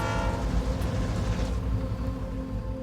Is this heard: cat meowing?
no